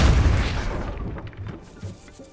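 The Depulso force spell cast in the video game Hogwarts Legacy, a single heavy booming blast that fades into a rumbling decay with a few soft thuds after.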